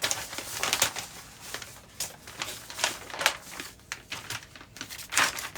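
Leftover waste paper for dressmaking pattern adjustments is handled and crinkled close by, in repeated bursts of rustling and crumpling with brief pauses between them.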